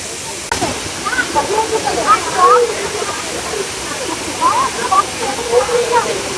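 A waterfall on the trail to Laurel Falls in Tennessee gives a steady, close rushing roar of falling water, while people talk over it throughout.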